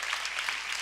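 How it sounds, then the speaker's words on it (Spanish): Audience applause fills the room at a farewell gathering of women columnists, a dense steady wash of clapping with slight surges, close and loud throughout. "Gracias por los aplausos."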